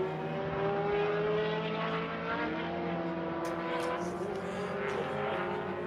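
A Caterham and a Ferrari race past during a classic 24-hour race at Daytona, their engines making a continuous, moderately distant roar that rises and fades as they pass.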